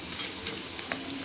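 Corn flakes frying in a batch of hot oil for chivda, a soft continuous sizzle with faint stirring clinks and brief scrapes, close and fairly quiet, no talk.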